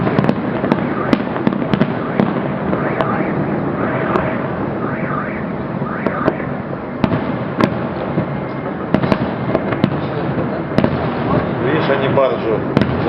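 Fireworks display over Golden Horn Bay in Vladivostok, heard from a distance as a continuous stream of booming bursts and crackling pops across the whole stretch, with people talking throughout.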